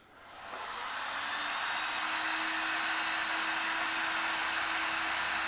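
Heat gun blowing hot air over heat shrink tubing, a steady, close, loud whooshing hiss with a faint whine that holds unchanged throughout.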